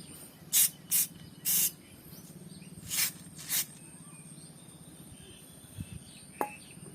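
Cleaner sprayed from a spray bottle while washing an electric scooter gives five short hissing bursts in a loose rhythm, close and loud, over a low steady hum, followed by a few faint clicks.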